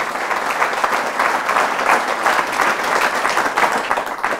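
A church congregation applauding at Mass, a dense sustained burst of clapping from many hands, loud and close for several seconds with no one speaking.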